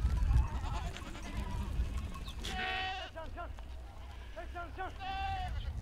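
Several hundred goats in a nomadic herd in Turkey bleat repeatedly in wavering calls, some near and some farther off, over a steady outdoor background with talk underneath.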